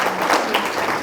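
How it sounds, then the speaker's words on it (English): An audience at a Christmas luncheon hosted by the Mission Regional Chamber of Commerce gives a brief burst of applause, many hands clapping close and fairly loud for about a second. "So please give our Freedom of the City recipients a round of applause for their long service."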